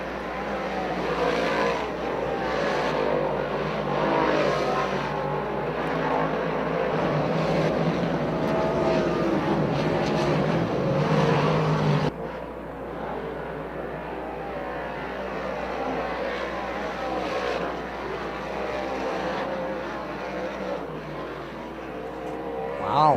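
Modified-division race cars running hot laps on the dirt track at Bridgeport Motorsports Park, a steady loud engine roar held throughout with a brief dip partway, no speech.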